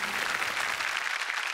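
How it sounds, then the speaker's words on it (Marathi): Loud, dense applause from a studio audience on a Marathi comedy show, a steady wall of clapping for the whole stretch without pause. "जोरदार टाळ्या."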